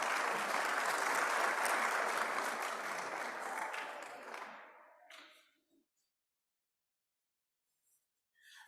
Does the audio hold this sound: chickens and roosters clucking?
no